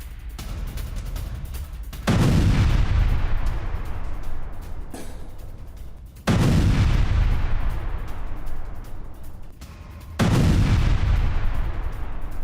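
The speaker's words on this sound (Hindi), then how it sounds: "हथियार डिपो पर भी भीषण बमबारी की गई।" Heavy bombing strikes on a weapons depot in southern Lebanon: three deep, loud blasts, each followed by a long rumbling decay, spaced roughly four seconds apart with no voices.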